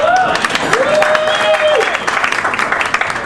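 A short burst of clapping and cheering from a pub audience at a live event, with a whooping voice rising over the applause before it fades.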